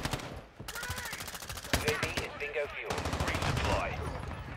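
Decoy grenades in a first-person shooter game mimic gunfire as rapid bursts of sharp automatic shots that come in clusters with brief gaps, loud and close, over other game sounds.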